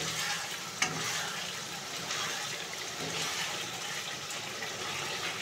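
Cashew and chili paste is stirred in a frying pan, with a continuous moderate sizzle, soft scraping, and one brief knock of a utensil early on.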